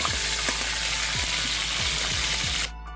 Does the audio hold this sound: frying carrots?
yes